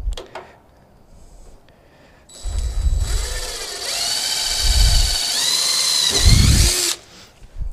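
A cordless drill whirs up in several bursts, spinning steadily between pauses, with thumps as it bores holes while seat brackets are made for a 1967 Chevelle, close and loud.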